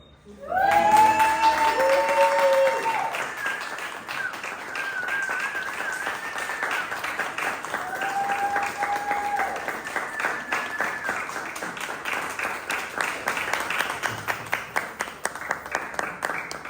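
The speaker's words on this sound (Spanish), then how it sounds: "les pido otro aplauso" Sustained applause from the audience at an academic graduation ceremony, a dense wash of clapping that holds for the whole stretch and thins into separate claps toward the end, with tones and brief voices mixed in.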